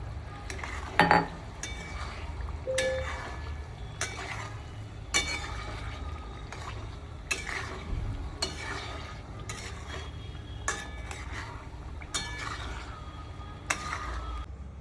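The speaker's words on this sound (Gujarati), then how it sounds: "હવે ગ્રેવી પાકી ગઈ છે અને આપણે બાફેલા બટેટા એડ કરી દઈશું" Boiled potatoes stirred into cooked gravy for Dhoraji-style bhungra bateta, a pan scraped by a utensil in repeated rhythmic strokes with occasional clinks over a low background hum.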